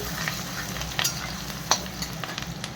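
Chopped onion and green chili frying in oil in a home kitchen pan, a steady close sizzle with a few sharp stirring scrapes, no talking.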